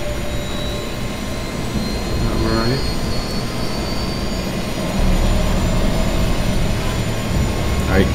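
Airplane jet engine in the video game Just Cause 2, a steady loud roar throughout with a rising whine partway through, swelling louder in the second half.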